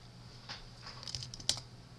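Quiet, sparse keystrokes on a computer keyboard during MATLAB work, a handful of light clicks with a sharper tap near the end, alone with no talk.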